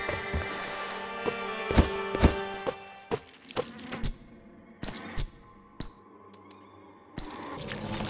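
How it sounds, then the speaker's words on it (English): Bees buzz in the video game Blasphemous 2, a steady insect drone under scattered sharp clicks and drips, with brief moments of near silence between them. "The bees of the miracle advance, creating more hollows in this honey pot that is now my body."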